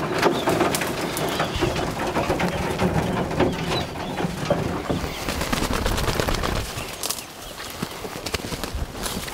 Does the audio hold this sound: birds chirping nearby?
yes